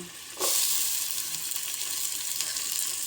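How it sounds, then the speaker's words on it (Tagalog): Onion and garlic sizzle and fry in hot oil in a pan for ginisang munggo, a sudden loud hiss that settles into a steady, bright crackle with no talking. "Tapos lagay na natin yung sibuyas at saka bawang. Yan, gisa-gisa lang."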